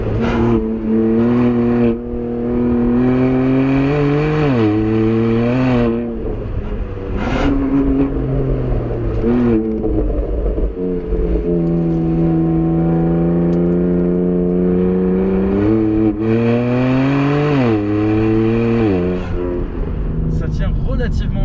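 A BMW M2 CS drives on a cobbled road, its engine note rising and falling through gear changes from inside the cabin, loud and continuous beneath steady conversation.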